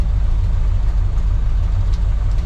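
A car engine fitted with a Rochester Quadrajet four-barrel carburetor idles with a steady low rumble, stuttering slightly for fuel as it runs lean on too much air, close and continuous.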